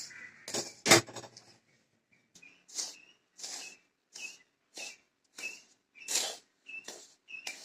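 Spoon or spatula scraping and clinking against a hot pan while rava laddu mixture is stirred, a bold clatter near the start followed by a steady series of short scrapes at regular intervals, close and fairly quiet.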